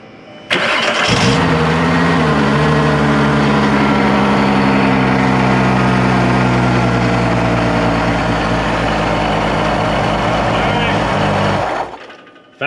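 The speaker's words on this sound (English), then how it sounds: "this car does not have an exhaust, so it's super loud" A 2001 VW Jetta VR6 with no exhaust, its engine starting and then running very loud and close for about eleven seconds, a harsh steady roar with a brief rev early on before it cuts off.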